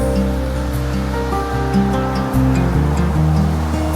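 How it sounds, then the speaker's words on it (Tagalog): Constant broadband rush of a waterfall in California, loud and close, with a low tonal hum layered beneath the steady roar. "There's a falls!"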